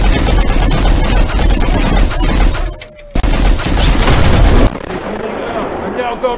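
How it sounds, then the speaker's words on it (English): Dense, loud bursts of gunfire and blasts crackle continuously, briefly cutting out before resuming, then give way to quieter noise with voices. "And now gunfire! Coming out of the Ragdoll Fortress."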